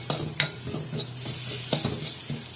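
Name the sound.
mint and spices frying in ghee in a pan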